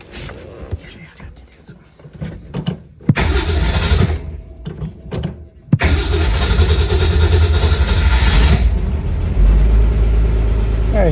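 A 1965 Ford Mustang's carbureted engine cranks in bursts, catches, and settles into a loud, rough, uneven running idle, with quiet talk during the first attempts.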